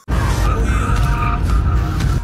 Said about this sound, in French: Fait crisser des pneus de sa 508.